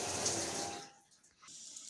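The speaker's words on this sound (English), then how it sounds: "Close taps while brushing teeth." Tap water runs steadily and close for nearly a second, then cuts off, leaving quiet with faint drips and soft splashes.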